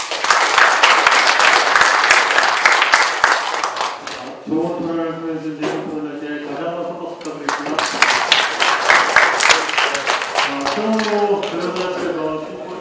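Audience applause rings out at the close of a 2018 horse trainers' association symposium panel discussion, loud and dense at first, then giving way to an announcer talking over thinner clapping that swells again.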